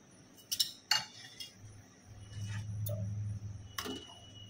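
A lid goes onto a pan of semai lachha topped with ghee and chopped nuts, with a few light metallic clinks and taps, then a low steady sizzle and a final clink.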